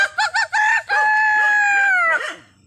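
A man imitates a jungle fowl's call with his voice, giving a few short clucking bursts followed by a long, drawn-out crow that rises and trails off, loud and close with no other sounds.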